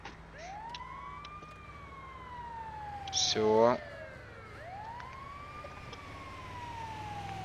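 A wailing ambulance siren in the video game GTA 5 rises and falls steadily throughout, with a short voice and a louder burst of noise midway.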